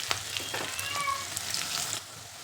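Whole spices frying in ghee, a close, fairly quiet sizzle and crackle that stays steady for a couple of seconds, then softens.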